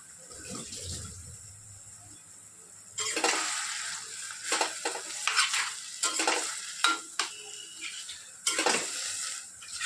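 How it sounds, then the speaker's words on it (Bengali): Food stirred in a pot during cooking, a low background hiss that gives way to a louder sizzle broken by repeated scraping and clattering stir strokes against the pot. "একটুখানি এটা নাড়াচাড়া করে অনেকক্ষণের জন্য ঢেকে রাখতে হবে"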